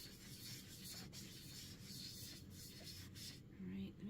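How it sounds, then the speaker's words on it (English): Soft, steady rubbing as shiny scuffs are worked off a doll's surface, a quiet continuous friction with faint brief strokes and a small voice sound near the end. "I'm just going to keep rubbing just a little bit more."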